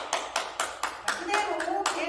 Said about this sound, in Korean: 톡톡 박수 주시면 됩니다